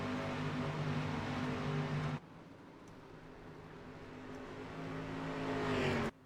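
Street stock race cars in the iRacing video game at IRP drone with strong, steady engine tones; the sound cuts sharply partway through, then the engine note climbs in loudness before stopping abruptly.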